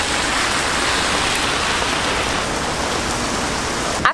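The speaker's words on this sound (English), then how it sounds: "The rain has not let up though, so that's a bit of a bummer." Heavy rain pours down in Cannes on the French Riviera, heard from under shelter as a loud, steady, dense hiss that ends with a brief bump.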